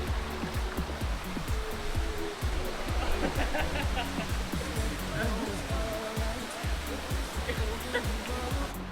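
A wild waterfall in the Bali jungle roars as a steady, dense rush of falling water, close and loud throughout with no break.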